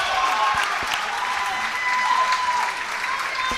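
Crowd applause fills the hall at a European Para Table Tennis Championships match, a steady dense clapping that holds loud and close for the whole stretch, with faint voices mixed underneath.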